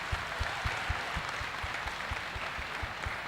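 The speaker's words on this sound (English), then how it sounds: "please give them a round of applause for this new accomplishment" An audience of parents and staff at a university family orientation applauds, a fairly quiet spread of clapping with a few low thumps pulsing through it at a regular beat, heard from some distance.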